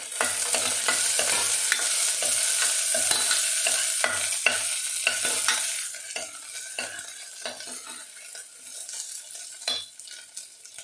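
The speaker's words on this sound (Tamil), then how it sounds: "அதை இப்போ இதில் சேர்த்துடலாம். இதெல்லாம் நல்லா வதக்கி எடுத்துக்கலாம்." Chopped small shallots sautéing in a pan for tomato curry, an even sizzle with repeated scraping stirs of a utensil against the pan, steady and close, easing slightly toward the end.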